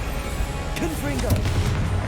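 A Confringo blasting curse goes off in the video game Hogwarts Legacy, a burst of heavy booming impacts layered over constant game ambience, with brief whooshing spell sounds around it and no clear talk.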